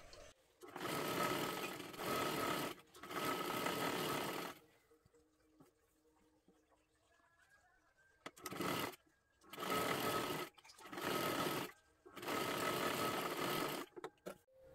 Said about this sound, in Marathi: पूर्ण शिलाई मारून घ्यायची आहे